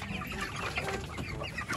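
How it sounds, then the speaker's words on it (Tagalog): Chickens cluck steadily and close by, with overlapping calls from several birds filling the whole short stretch, no talking. "mga manok"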